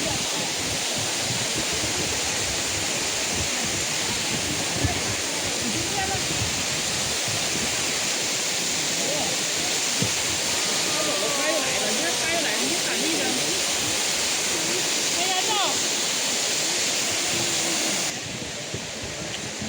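A waterfall at Huanglong in Sichuan roars as a dense, constant wash of falling water over the whole stretch, loud and unbroken, with faint voices of a crowd mixed underneath.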